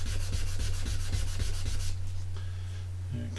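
Finer-grit sandpaper polishing a surface, with rapid rhythmic back-and-forth rubbing strokes close by that ease into a lighter, steadier scrape.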